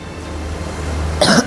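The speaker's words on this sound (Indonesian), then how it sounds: "Jika Anda batuk, segera gunakan masker." A single short cough bursts out near the end after a steady low hum, demonstrated as part of cough etiquette.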